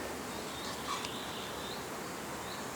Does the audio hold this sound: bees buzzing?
yes